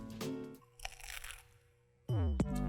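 A crunchy bite into the crisp bottom crust of a stovetop BBQ chicken pizza makes a short crackle near the start, followed by soft chewing noises and a louder burst at the end.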